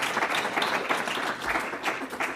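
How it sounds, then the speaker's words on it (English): Applause from an audience at a school board meeting for a school safety and security team, a steady patter of many hands clapping at moderate volume with no speech over it. "Yes, you can clap for them."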